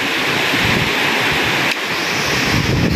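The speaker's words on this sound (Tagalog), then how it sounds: "Lakas ng hangin, guys, oh" Strong wind gusting outdoors during heavy rain and flooding, a loud, steady broadband roar buffeting the microphone for the whole stretch, with a brief dip midway and no talk.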